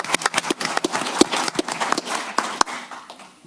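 Scattered hand claps from a city council meeting audience, sharp and uneven and fairly close, fading out after a few seconds.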